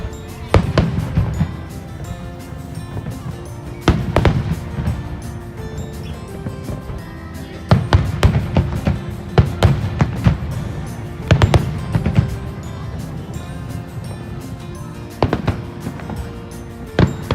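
Fireworks show over Waikiki, with sharp booming bursts recurring every few seconds over a continuous crackle, loud and close overhead.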